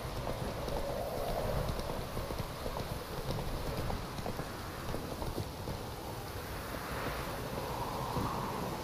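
Hooves of Geralt's horse Roach in The Witcher 3, a steady rapid clip-clop gallop continuing without pause under a bed of wind and rain-like noise.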